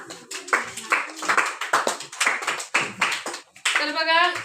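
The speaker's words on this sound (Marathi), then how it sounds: "स्वरासाठी जरा टाळ्या वाजवा जोरात" A classroom of students clapping loudly for a classmate, a rapid burst of hand claps in bursts that swell near the end, close and prominent with a voice mixed in.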